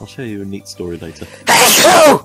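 One loud, sharp sneeze bursts out right after a few words of speech, close and brief.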